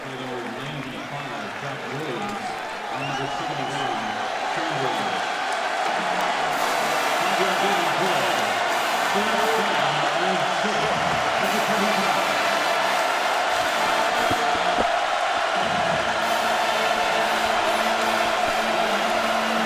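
A large stadium crowd roars steadily at a college football game at Memorial Stadium between TCU and Kansas, a broad sustained wash of cheering that swells and holds loud for the whole stretch.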